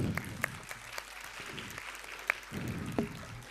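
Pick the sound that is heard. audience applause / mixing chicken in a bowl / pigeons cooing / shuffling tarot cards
audience applause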